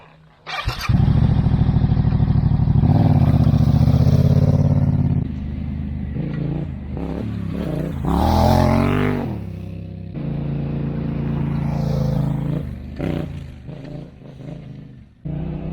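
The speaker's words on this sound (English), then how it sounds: "get a bit of footage of the bike launching" A Yamaha T7 adventure motorcycle launches off a small dirt jump, its engine revving loud and close in a long sustained burst, then surging again in a rising howl before settling into a rougher, uneven idle.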